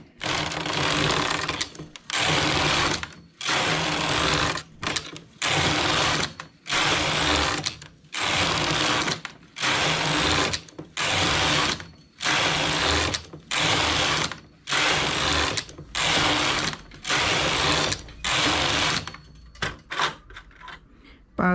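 Hand-operated knitting machine working a knitted glove, the carriage swept back and forth in about a dozen even rows, each pass a loud mechanical whirring rattle separated by brief pauses.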